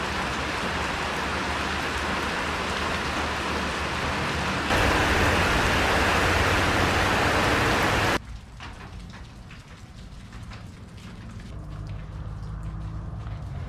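Steady rain falling during a hike at Spruce Creek Park, a dense continuous patter that swells louder for a few seconds, then drops to a lighter, closer drip and spatter on surfaces.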